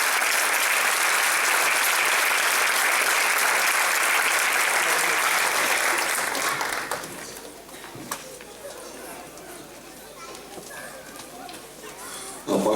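A church congregation claps in dense, loud applause for about seven seconds, then it stops and faint murmuring and scattered room noise remain, with a last brief burst at the very end.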